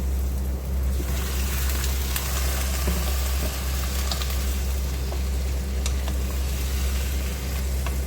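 Chicken pieces for tinola frying in a pan, a steady close sizzle with faint crackles over a constant low hum, no talk.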